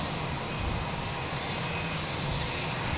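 A Frontier Airlines jet arriving at Boston Logan Airport gives off a continuous broadband engine roar at moderate distance, steady and unbroken, with no voices.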